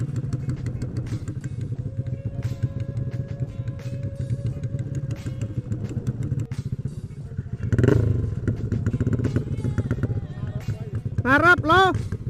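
Honda Supra motorcycle with a KPH exhaust, a loud steady engine drone with a rising rev swell near the middle and another near the end. People talk over it throughout.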